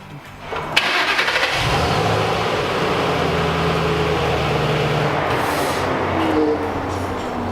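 An engine cranks and catches, then settles into a steady, loud idle that keeps running close by, with no talking.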